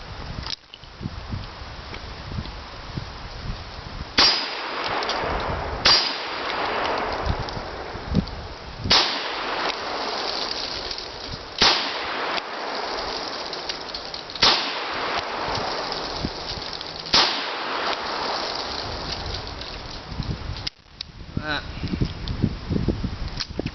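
Shots from a Smith and Wesson Model 10-5 revolver: sharp reports spaced several seconds apart over steady outdoor background noise, with someone talking at points between them.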